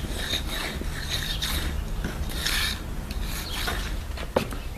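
A hand edging tool scrapes along the edges of a freshly poured concrete sidewalk, giving a continuous gritty rubbing rasp with faint repeated strokes, close and alone.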